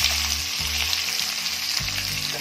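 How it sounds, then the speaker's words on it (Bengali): Tomato and onion fry in a pan for a spicy mutton dish, giving a loud, continuous close-up sizzle with low bubbling pops underneath and no talking. "দেবো আমি টমেটো আর পেঁয়াজ একসাথেই দিয়ে দেবো"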